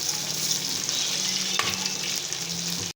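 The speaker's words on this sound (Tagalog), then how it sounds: "Okay, magpiprito na tayo ngayon. Yan. Ito na ang ating tilapia." Tilapia and onions frying in a pan, a steady close sizzle that runs unbroken with faint stirring scrapes and no voices.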